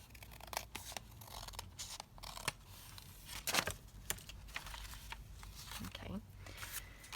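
Scissors snip and trim paper along the edge of a paper doll cover in a craft session, giving quick, close, crisp cuts scattered among rustling paper, with a person speaking quietly throughout.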